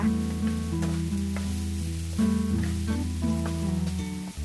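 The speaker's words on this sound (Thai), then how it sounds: "ผัดให้เข้ากันค่ะ" Small rice noodles are stir-fried with tomato sauce in a pan for a child's wheat-free meal. A soft sizzle and the scrape of stirring run under a steady tonal hum, and a brief clatter comes near the end.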